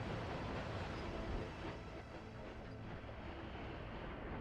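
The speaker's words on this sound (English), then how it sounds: "Well, at least the construction train has moved out of the way and now it's going to get run over." Train passing in a 1900-era transport and resource-building game, a dense steady rumble with a faint clickety rhythm, fairly quiet and alone without talk.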